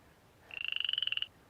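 A single frog lets out one short, rapid pulsing croak, a quick trill of about a dozen beats lasting under a second, close and fairly quiet against a still background.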